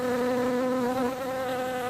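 A bee on a course buzzes steadily and loudly close by, a sustained droning hum with a slight wavering pitch and no voices over it.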